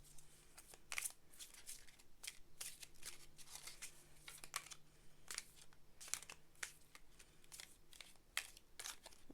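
A tarot card deck is shuffled by hand in a quiet room, a long run of quick crisp riffling slaps and flutters in an uneven, slightly messy rhythm, close and soft with no talking.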